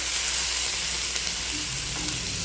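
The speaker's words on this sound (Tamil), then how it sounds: "கருவேப்பிலையும் நல்லா வதக்கி விட்டுக்கிடுங்க." Diced onion and curry leaves sauté in hot oil in a pan, making an even, continuous sizzle that stays close and moderately loud for the whole stretch.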